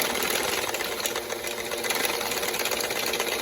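A Sawzall reciprocating saw shakes a paint can, making a loud, steady, rapid mechanical rattle and buzz that holds level throughout with no pauses.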